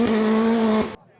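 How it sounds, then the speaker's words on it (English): Rally car in Finland bursting around a corner in the rain, a loud high engine roar close by that cuts off sharply after under a second. "as that car burst around the corner"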